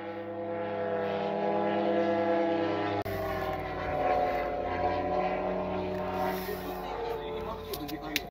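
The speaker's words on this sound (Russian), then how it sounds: "прямо над моим домом летит" A drone passes directly over a house in Russia, a steady droning engine with strong harmonic tones holding throughout, fairly loud and close, with a brief break and faint background noises later on.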